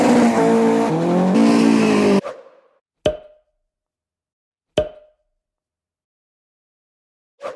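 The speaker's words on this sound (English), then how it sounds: "I can hear the Supercharged Anglia." Supercharged Ford Anglia engine, first a loud sustained rev for about two seconds, then several short sharp blips or pops spaced apart with silence between them.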